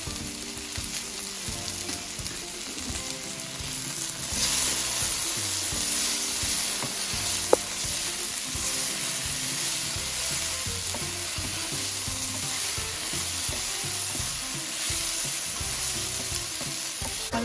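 Mustard seeds, fennel and two green chillies spluttering in hot oil for a Sri Lankan okra curry, a steady dense crackling sizzle close by with one sharp pop partway through and no talking.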